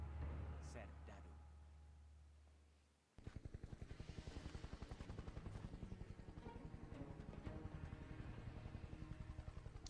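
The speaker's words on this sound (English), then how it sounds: "Why does everybody in this game own the same exact helicopter?" Rotor chopping of a helicopter in the video game Just Cause 2, starting abruptly after a low engine drone and continuing as a steady, loud rhythmic thump with a voice talking over it.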